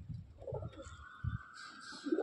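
Low, rumbling coos come from Madrasi/Andhra pigeons in a loft at Sodhpur: a few short soft phrases close by, with a faint steady background tone and no talk.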